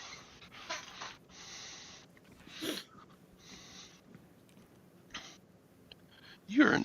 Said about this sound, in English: sniffing around where she set that